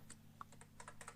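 Typing on a computer keyboard, a short burst of soft, quiet key clicks in an uneven rhythm, faint and close with no talking.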